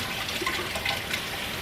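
Hot water runs from a kitchen tap into a sink, a steady broad rushing hiss with no pauses, moderately close and alone.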